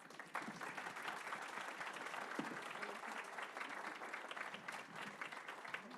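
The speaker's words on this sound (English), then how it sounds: "So can we give them a round of applause?" Sustained applause from a crowd, dense clapping that starts abruptly and continues at an even level throughout.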